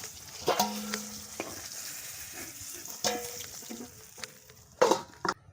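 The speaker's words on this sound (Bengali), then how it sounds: "আলু মাখার জন্য পেঁয়াজটা প্রথমে ভেজে নিচ্ছি ওই তেলে" Onion fries in hot oil in a village kitchen, a low sizzle under intermittent scraping and stirring knocks of a utensil against the pan, with a couple of louder clatters; no speech.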